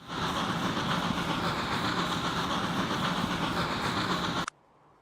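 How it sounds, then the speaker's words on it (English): A train rolls on rails in Transport Fever 2, a loud, dense rumble with clattering texture that runs steadily and then cuts off abruptly near the end. "Ah, there's still a train on there."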